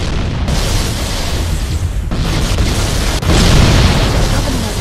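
Halo: Combat Evolved game explosions as Covenant forces destroy escaping life pods aboard the Pillar of Autumn: loud, continuous booming and rumbling with overlapping blasts and no break, plus a swell near the end.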